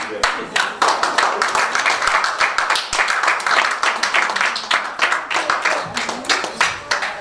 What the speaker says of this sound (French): une petite acclamation faible.